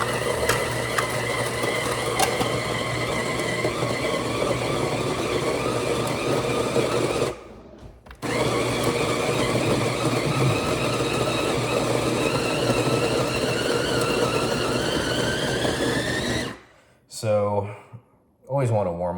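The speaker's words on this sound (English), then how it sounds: "Run it through the grinder, so pardon the noise." A coffee grinder runs close up, grinding 19 grams of Ethiopian Sidamo beans for a double espresso shot. It gives a loud, steady whir that stops briefly near the middle and starts again, then cuts out at the end in a few short bursts. Speech is also picked up.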